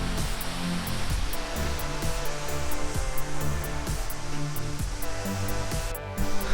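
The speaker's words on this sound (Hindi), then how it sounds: "हम हैं फाइनली पवई वाटरफॉल" Pawai waterfall in Balrampur, Chhattisgarh roars as a continuous dense rush of falling water, steady and loud throughout with no voices over it.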